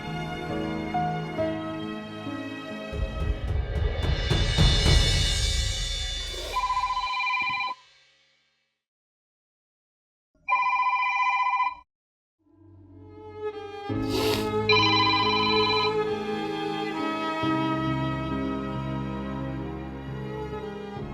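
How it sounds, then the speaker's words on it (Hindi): A phone rings on an outgoing call to a man's number in a Pakistani TV drama scene, with several ring bursts separated by pauses amid music-like tonal sound, moderately loud with no talk over it. "अभी सर अदनान के नंबर पर कॉल जा रही है।"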